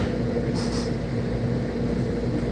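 Subway train running toward Penn Station, a loud steady rumble of cars and wheels on the track with a brief higher screech partway through, and no talk.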